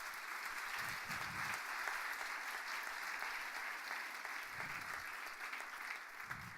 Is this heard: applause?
yes